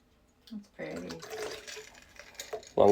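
Liquid poured into a glass, a faint trickle at first that swells into a fuller stream of pouring and ends in a louder splash at the finish, with background noise beneath it.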